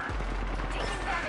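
Rapid bursts of gunfire from a PS4 video game, loud and steady through the short moment, with a voice talking over them.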